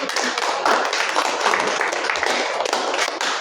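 A class of students claps after a group presentation in a school religious-education lesson, producing a steady, dense wash of applause that stays even in loudness throughout, with no voices on top.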